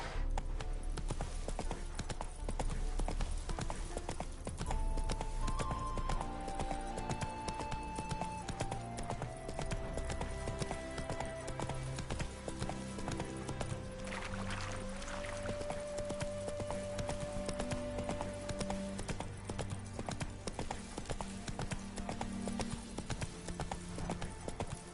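Hoofbeats of Roach, the horse in The Witcher 3: Wild Hunt, clopping steadily at a run in a continuous rhythm beneath layered game music and ambience, with no talk.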